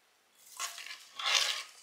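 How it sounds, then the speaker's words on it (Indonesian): A spoon or spatula stirs rice with fried rice seasoning in a pan, making two soft scraping strokes. The scrapes are quiet and close, with no talking. "Habis itu kita aduk-aduk"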